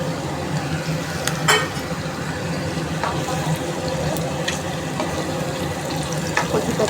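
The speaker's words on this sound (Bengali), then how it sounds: "আমি ভালো করে এটাকে ভেজে নেব কচুটাকে।" Taro pieces with mustard frying in a pan, a steady crackling hiss with a few sharper pops and scraping stirs, close and continuous, no voices.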